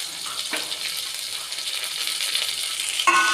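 Sliced onion and green chillies drop into hot oil with fried ginger and garlic for a chicken roast, raising a loud, constant close sizzle with a brief splash at the start and another near the end.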